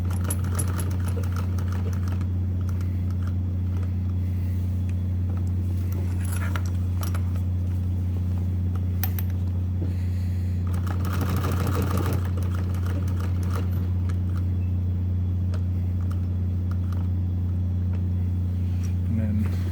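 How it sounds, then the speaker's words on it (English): A sewing machine stitches a W stitch with a steady, continuous mechanical hum and rapid needle clatter throughout, while a person talks over it. "It's easier to just stitch in reverse."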